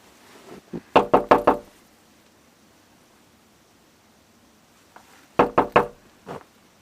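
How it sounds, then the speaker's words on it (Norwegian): Someone knocks on the door of a hidden cave hideout in two separate rounds of four sharp raps. The knocks are close and loud over a steady hiss, with no talking. "Nå skal jeg, som den første i verden, få æra til å banke på denne døra."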